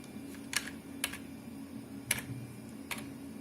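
A few sparse keystrokes on a computer keyboard at a game console on a retro MMX 233 PC, quiet isolated clicks spaced irregularly over a low hum.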